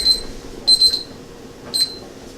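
A kitchen timer alarm goes off while eggs boil, sounding as three short bursts of high, piercing beeps separated by pauses, fairly loud over a quiet room.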